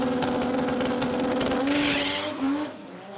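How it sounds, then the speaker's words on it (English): Toyota Supra with a 3.2-litre 2JZ engine on a drag strip at a street-performance jamboree, a loud sustained engine roar with a rising tone and a brief tyre squeal, heard alone. "All right, Jeremy finishes off the round in the Supra."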